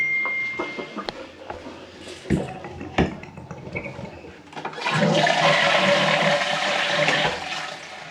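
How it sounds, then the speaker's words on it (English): A few clunks and knocks lead into a toilet flushing nearby, a loud rushing swirl of water that then eases into the cistern refilling. "I always flush the toilet as well"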